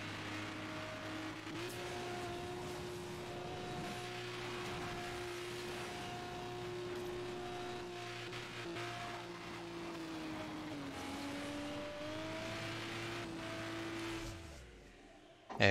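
A Pagani Imola race car engine in Asphalt 9 Legends holds a steady, loud drone at high revs. The pitch wavers briefly partway through, then the engine cuts out abruptly at the end.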